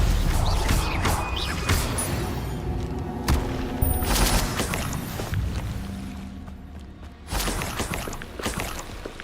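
Spell-casting effects from the Hogwarts Legacy game, a dense run of blasts, whooshes and bursts from fire, shield and stunning spells, loud and layered with a brief lull before a final swell of impacts.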